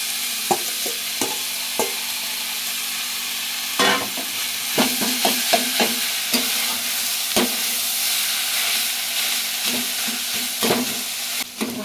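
Paneer momo filling with onion is stirred and fried in a pan, with a continuous sizzle and hiss under repeated scraping and tapping of a utensil against the pan close by, with no talking.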